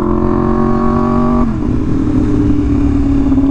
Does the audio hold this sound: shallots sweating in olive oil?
no